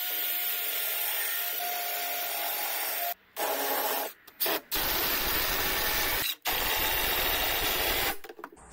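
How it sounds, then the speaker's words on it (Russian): A power screwdriver whirs loudly and continuously, driving self-tapping screws into the leg of a homemade solid-wood table, with several brief pauses between runs. "сейчас саморезами закручу сюда, сюда и отсюда, и будет четко"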